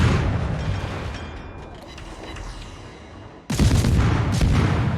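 Deep rumbling battleship gunfire in World of Warships, heard as a low, sustained roll that fades and then gives way to a sudden loud blast near the end.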